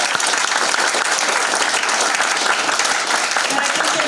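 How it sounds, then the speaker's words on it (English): A crowd at a memorial gathering breaks into loud, continuous applause, dense and even throughout, many hands clapping together close by. "give a round of applause for the last crew"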